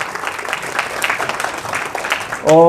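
A short burst of audience applause at a Korean talk, a dense crackle of many hands clapping at moderate volume, with a brief voice cutting in near the end.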